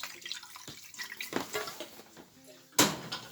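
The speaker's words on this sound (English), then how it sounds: "a little bit of water" A little water is poured into a pan of chicken with sweet soy, giving brief splashing and trickling with light clinks of cookware, ending in a sharper splash.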